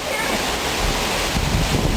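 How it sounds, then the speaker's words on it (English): Gusting hurricane wind in 2004 roaring past, a loud broadband rush that swells and buffets the microphone, with faint background voices. "You can see the wind is starting to really gust."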